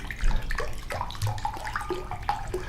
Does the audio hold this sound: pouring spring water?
yes